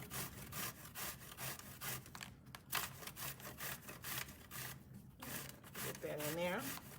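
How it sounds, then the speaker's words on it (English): Zucchini grated into a bowl: steady, rhythmic rasping strokes, fairly close and moderately loud, with a voice speaking briefly over part of it. "We're gonna go ahead and grate our zucchini"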